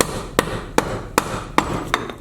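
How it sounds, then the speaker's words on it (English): A mallet strikes a large gouge carving into wood, giving five sharp, evenly spaced knocks about every 0.4 seconds, close and loud over faint background noise. "I'll just start this with the big gouge"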